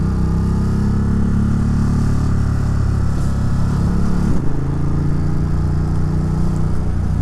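A Ducati motorcycle running without its catalytic converter is ridden at steady speed, its engine a loud, continuous low rumble mixed with wind noise, with a slight pitch change midway.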